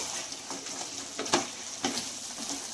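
Chicken for chicken handi sizzles quietly in a pan with a steady hiss after its water has cooked off, broken by a couple of sharper spatters and scraping stirs.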